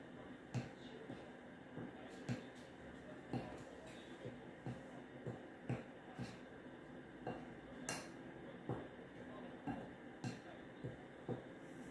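A utensil stirs KFC-style chicken ingredients, including onion and onion salt, in a bowl, making a steady run of sharp clinks and taps at a fairly even rhythm, close up against a quiet background.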